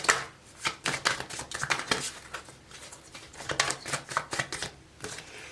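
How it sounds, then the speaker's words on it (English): Tarot cards are shuffled in rapid bursts of crisp riffling and tapping, close and fairly loud, with a steady uneven rhythm and no talk. "So you make your selection while I shuffle your advice."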